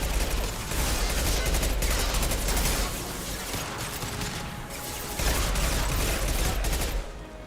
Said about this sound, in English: That dumb motherfucker was shooting at the ground.